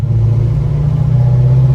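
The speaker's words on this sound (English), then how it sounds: "We're gonna get a few clips, see the car go by." A restored 1969 Chevrolet Chevelle drives past with a loud, deep, rumbling exhaust that holds steady throughout the brief pass, with no talking.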